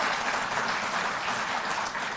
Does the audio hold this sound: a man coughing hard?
no